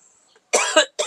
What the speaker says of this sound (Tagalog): Inuubo ka.